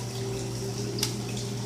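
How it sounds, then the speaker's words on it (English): Cold tap water runs steadily into a sink over about six pounds of chicken breast, a soft continuous hiss with a faint splash, quiet and close. "run cold water on it"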